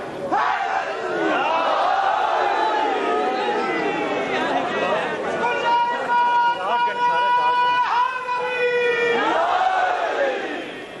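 A large crowd at a religious majlis gathering chants slogans in loud, rhythmic unison, roaring voices filling the hall almost without pause, with some talk and babble mixed in.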